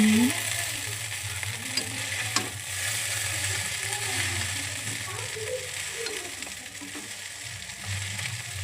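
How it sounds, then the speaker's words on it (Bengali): Chow mein is stirred in a hot pan, giving a continuous bright frying hiss with scraping and clinking of the utensil against the pan, steady and close. "তারপরে নাড়িয়ে নিলাম।"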